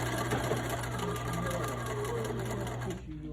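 A sewing machine stitches an apron with a steady, close mechanical whir of rapid stitches that cuts off abruptly just before the end.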